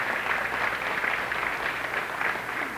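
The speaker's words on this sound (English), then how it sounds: "So I'd like you to join me in giving him a round of applause for the work he does." An audience at a Garifuna heritage celebration in Brooklyn claps in a steady, even round of applause, moderately loud and unbroken throughout.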